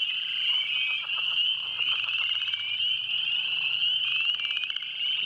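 A dense chorus of chorus frogs croaks from a pond in early spring, layered rapid trills overlapping into a continuous, close, loud pulsing drone.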